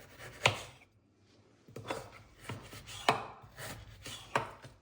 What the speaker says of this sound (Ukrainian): Нарізаю ось таким невеликим кубіком.